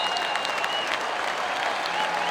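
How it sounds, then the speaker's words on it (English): Crowd applause at a college basketball game, NC State Wolfpack hosting Fairfield Stags, a steady arena-wide wash of clapping and crowd noise filling the whole moment, with faint squeaks and calls mixed in. "Dennis Smith Jr. will get a good hand from the crowd"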